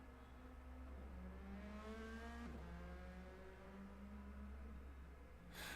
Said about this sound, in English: sounds like we got cars on track here